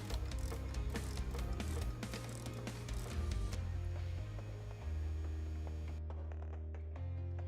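A ratchet clicks in quick bursts while the air intake is refitted on a 2018-2020 Jeep Wrangler JL, close and moderately loud, with short pauses between runs of clicks and no talking.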